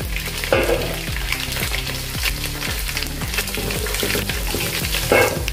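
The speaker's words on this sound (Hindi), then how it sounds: "अभी लहसुन की कलियां मैंने दरदरे से कूट ली है, वो इसमें डाल देंगे।" Crushed garlic cloves dropped into hot oil already holding mustard seeds and cumin, frying with a steady close sizzle, a few crackling pops and stirring clatter throughout.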